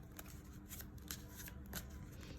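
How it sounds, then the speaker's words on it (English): A deck of tarot cards being shuffled close up, quiet repeated riffling and flicking bursts in an uneven rhythm over a low steady background hum, with no talk. "let's shuffle the cards together"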